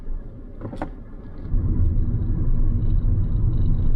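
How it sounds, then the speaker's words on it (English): Steady low road rumble of a BYD Dolphin Surf driving at speed on a country road, with a brief higher scrape of wheel spin early on, then a continuous loud roar of tyres and motor. "Let's see how much it wheel spins this time"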